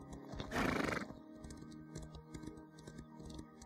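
A horse in The Elder Scrolls Online gives one loud, close whinny, followed by light rhythmic hoof clip-clops and faint clicking ticks.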